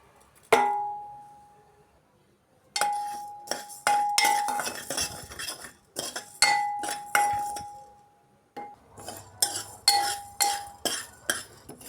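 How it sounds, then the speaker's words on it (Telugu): Coriander seeds and cumin dry-roast in a metal pan, with a spatula repeatedly striking and scraping the pan in bursts of bright metallic clinks and ringing taps. Short silent gaps fall between the strokes. "ధనియాలు, జీలకర్ర వేయించుకోవాలి."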